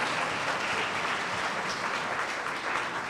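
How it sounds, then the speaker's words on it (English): An audience at a millennial forum claps for the candidates, a steady, dense burst of applause lasting throughout with no voices on top. "Let's give them a round of applause for their individual answers for that."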